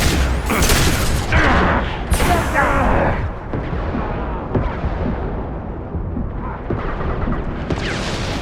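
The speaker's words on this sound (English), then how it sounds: "Taking heavy fire." Loud, dense gunfire and booming blasts from a Mass Effect 2 firefight, with sustained bursts and heavy impacts packed together from start to finish and no quiet gaps.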